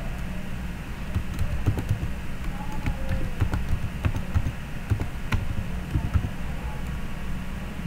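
Steady clicking of keys on a computer keyboard while a Laravel admin controller file name is typed, irregular taps close by over a constant low hum, no talk.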